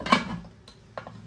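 A pressure cooker lid being set down and closed on the pot after its weight has been removed, giving a metallic clank followed by two lighter clicks, close and alone.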